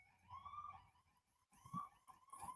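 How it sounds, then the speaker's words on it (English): An ambulance siren passes outside in Lafayette, a faint wavering wail heard at a distance with no talk over it. "stand by for ambulance going by."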